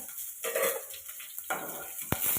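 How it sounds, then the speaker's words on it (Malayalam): Shallots are sautéed in a pan after mustard seeds have popped, with soft sizzling broken by a few spoon-stirring scrapes and clinks against the pan, quiet and close. "അത് നല്ലപോലെ മൂക്കുന്നത് വരെ ഒന്ന് വഴറ്റുക"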